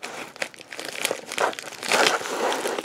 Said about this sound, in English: first we're going to cut this package open